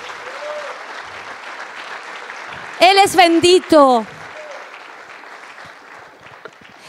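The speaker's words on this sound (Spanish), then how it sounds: "Dale un fuerte aplauso al Rey." Congregation clapping in a Spanish-language church service, a steady wash of applause with a voice briefly speaking over it in the middle.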